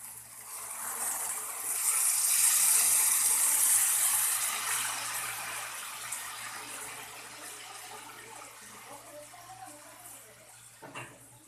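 Hot water pours from a vessel into oil-separated masala for an Odia catla fish curry, a strong continuous gush that swells and then thins to a soft trickle and splash near the end.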